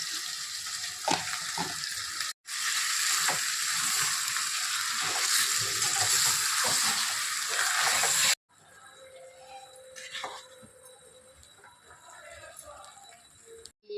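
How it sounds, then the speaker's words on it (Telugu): Chicken leg pieces frying in oil for a chicken biryani give a steady broadband sizzle and crackle, loud and continuous, cut by a brief silence, then a quieter, sparser sizzle afterward. "లెగ్ పీస్లు ఇవి వేపేస్తాను నూనెలో"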